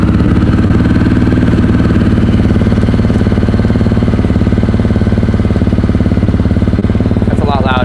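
A Honda XR650 motorcycle with an FMF Powercore 4 exhaust idles loudly right next to the listener, a deep, fast, even thumping pulse with a faint rattle, steady throughout.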